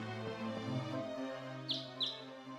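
Two short, high bird chirps ring out over a steady, droning background score during a puzzle scene in the video game Tales of Rebirth, with no voices present.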